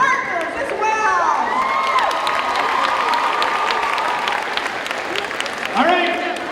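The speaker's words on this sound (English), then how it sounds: "And a big round of applause for their partners as well." A high school pep rally crowd in 2019 applauds and cheers, with dense clapping, whoops and children shouting filling a large echoing space under an announcer's voice.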